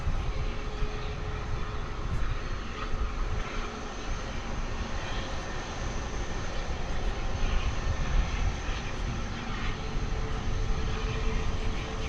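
An American Airlines jet taxis under its own power at DFW Airport. Its engines hold a loud, steady roar and whine throughout, with no talk.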